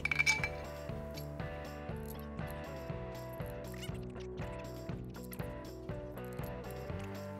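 Metal bolts clink and ratchet as all eight are fitted around a Mantic twin disc clutch for a Shelby GT500, a series of light taps and clicks over a steady background tone.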